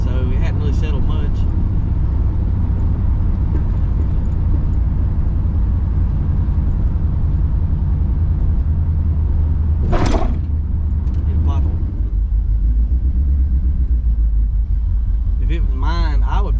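Steady low engine rumble of a Cutlass on 24-inch wheels on the move, constant and close, with a brief whooshing pass-by midway and faint speech underneath.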